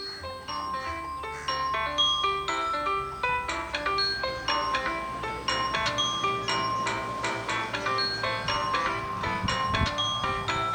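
Ringtone melody on a Samsung Galaxy M14 5G smartphone signalling an incoming call, bright chiming tones repeating in a steady tinkling pattern for several seconds, clear and close with no talking over it.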